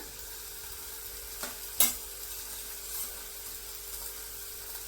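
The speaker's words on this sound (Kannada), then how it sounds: "ಇವಾಗ ಶುಂಠಿ ಬೆಳ್ಳುಳ್ಳಿ ಪೇಸ್ಟು ಮತ್ತು ಹಸಿಮೆಣಸಿನ್ಕಾಯಿ ಪೇಸ್ಟ್ ಹಾಕ್ಕೊಳ್ಳೋಣ" Ginger-garlic and green chilli paste sizzles in a pan with fried curry leaves as it is stirred for Kadale Usli, a steady soft frying hiss broken by a couple of sharp scraping stirs, with no talking.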